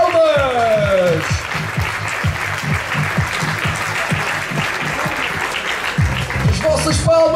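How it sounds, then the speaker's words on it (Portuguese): A stadium crowd at the Maia 2023 athletics meeting applauds a new meeting record in the women's 400m, sustained dense clapping that swells and persists, with an announcer's voice briefly at the start and end. "As vossas palmas!"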